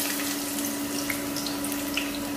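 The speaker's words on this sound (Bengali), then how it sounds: "তেলটা আমার গরম হয়ে গেছে, এর মধ্যে আমি এখন এই পেঁয়াজটা, হাফ পেঁয়াজ এর মধ্যে দিয়ে দেব" Half an onion dropped into hot oil in a pan while cooking mutton do pyaza: a steady, dense sizzling hiss, close and continuous, with tiny pops throughout.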